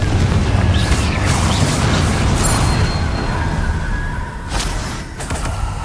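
Confringo blasting spell explosion in the Hogwarts Legacy video game: a dense, loud burst of crackling, rumbling noise that roars on steadily and eases slightly toward the end.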